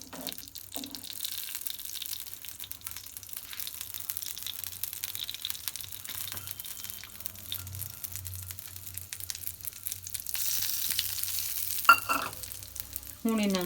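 Vermicelli sizzles and fries steadily in desi ghee for a sweet Punjabi seviyan dish, with a spoon scraping and stirring through the pan and occasional clinks over the continuous crackle.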